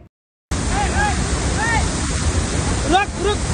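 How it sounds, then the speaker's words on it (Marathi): Pandavkada waterfall in Kharghar roars in heavy flow after torrential rain, a loud, steady wash of falling water that starts abruptly and continues throughout, with faint voices and a few high chirps over it. "मुसळधार पावसामुळे धबधब्याचा प्रवाह वाढल्याने हे तरुण अडकून पडले"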